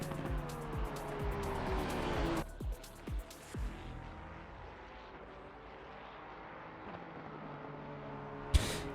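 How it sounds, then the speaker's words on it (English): A Porsche 992 GT3 race car roars down a long straight during a rookie race. Its engine pitch sweeps through the gears, loud at first, then fades as it passes, with a sharp burst near the end. "So you see Trey Pritchett here, and the second stone is Porsche 992 coming down the long straight, just in the slipstream of Sarah."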